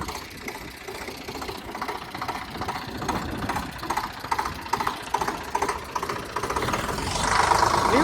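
Tractor engine running in a farm field, a steady close chugging idle with rhythmic knocking pulses, growing slightly louder near the end.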